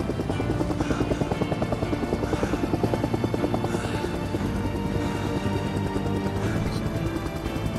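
A helicopter's steady rotor thrum fills the scene with dense, continuous chopping pulses, loud and close throughout.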